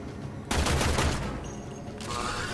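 Warframe gunfire at a storage container: a sudden burst of rapid shots that thins into a tail, then another dense volley, with no one talking.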